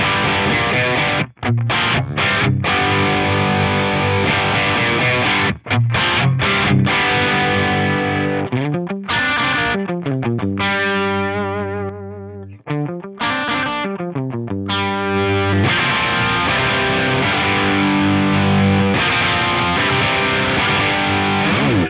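Distorted electric guitar through a Bogner Ecstasy tube amp model with the bright switch on, giving a bright, crisp edge, playing chords and riffs with brief pauses and ringing sustained notes.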